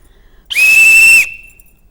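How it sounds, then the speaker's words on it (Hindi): A single sharp, shrill whistle blast holds steady for under a second, loud and close, then cuts off, with quiet before and after. "सीटी,"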